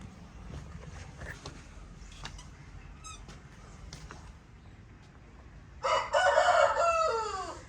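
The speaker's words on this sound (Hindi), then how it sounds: "लोगों ने अपनी मुर्गियों का डरबा अलग से बना लिया है" Chickens in a small village coop in rural Pakistan cluck and stir quietly before a rooster bursts into a loud, close crow near the end.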